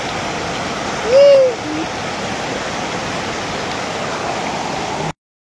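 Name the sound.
small river water flowing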